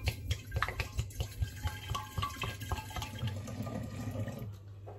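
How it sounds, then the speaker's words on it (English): Wine pours steadily into a glass demijohn, a continuous gurgling splash with rhythmic glugs, close by and fairly loud. "I'm going to pour the wine from the original demijohn"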